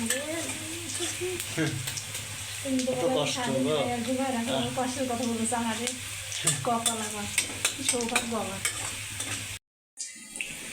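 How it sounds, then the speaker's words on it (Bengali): Onion, garlic and green chili sizzle steadily in a hot pan while people talk over it, the frying briefly cutting out near the end. "পেঁয়াজ রসুন কাঁচামরিচ ভাজা হয়ে গেছে"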